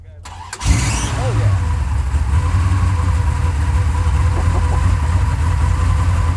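A 1965 Plymouth Belvedere I with a 426 engine in A990 tribute trim starts up at a car show, firing with a sharp catch and then settling into a loud, deep, lumpy idle that rumbles on steadily.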